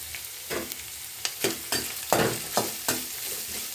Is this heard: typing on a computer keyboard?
no